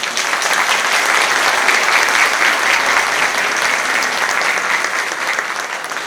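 Audience applause at a kindergarten end-of-year graduation show in a Skopje cinema hall, a dense, loud, sustained clapping from a large crowd that holds steady throughout.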